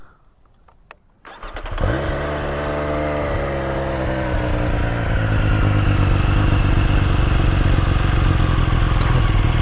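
A Triumph Street Triple RS motorcycle engine fires up after a short quiet start, settling into a loud, steady idle that grows slightly fuller and stays close and continuous.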